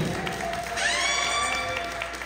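Applause rises from a community gathering for an investiture ceremony, a dense wash of hands clapping at steady moderate volume across the short stretch, with a faint tonal sound layered over it.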